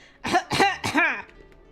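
A Hakuoki: Edo Blossoms character gives a snort of laughter followed by two or three rough coughs, close and loud, a throaty burst of voice with no other talk over it.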